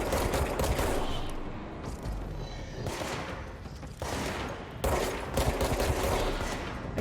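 Bursts of rapid gunfire in the video game Control, several volleys of automatic shots separated by brief lulls, loud and close with no talking.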